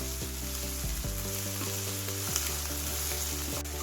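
Onion and ginger garlic paste fry in a kadai with a steady, even sizzle, joined by a continuous humming tone that repeatedly dips in pitch in the background.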